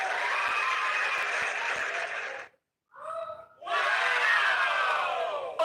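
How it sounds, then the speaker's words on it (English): A crowd at a remembrance concert in Ikorodu erupts in loud cheering and shouting with some clapping, breaks off into a near-silent gap with a brief vocal flourish, then surges back just as loudly. "Let's clap for him."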